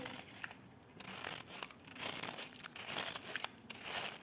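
Soft, wet squishing and crinkling noises up close, irregular squeezes and crackles of a gooey slime-like toy being pressed.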